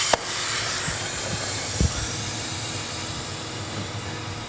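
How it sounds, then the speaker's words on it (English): Compressed air hisses steadily from an air line as it is disconnected on a 700-C unit. The hiss is close and even, opens with a brief sharp burst, and carries on alone for several seconds. "With our valve now locked, the air is now safe to disconnect."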